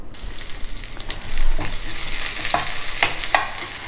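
Mustard seeds, urad dal, green chilli, ginger, curry leaves and asafoetida tempering in hot oil for curd vada, a close, steady sizzle with crackling pops and spoon scrapes against the pan.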